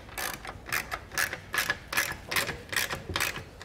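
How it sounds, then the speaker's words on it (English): Ratchet handle with a 1/2-inch socket tightening large clamp bolts on a Yakima LockNLoad platform rack, giving about nine evenly spaced bursts of clicking, close and fairly loud with no talk. "tighten down those large bolts with a 1/2-inch socket."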